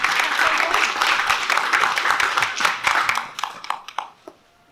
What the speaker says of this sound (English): We can do a round of applause.